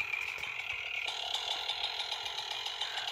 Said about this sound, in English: Chainsaw there and run.